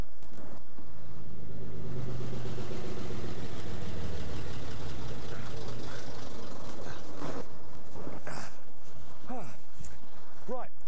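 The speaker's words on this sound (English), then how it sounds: "Here comes the bus." A bus engine rumbles and idles close by, with hissing and creaks as it pulls up and stops; voices are heard over it.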